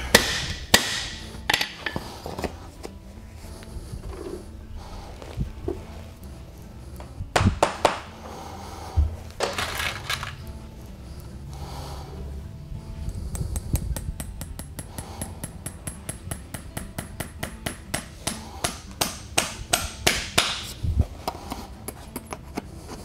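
A farrier drives nails into a horseshoe on a horse's hind hoof with a hammer, sharp metallic strikes coming in irregular bursts, then a quicker run of evenly spaced taps toward the end, close and clear.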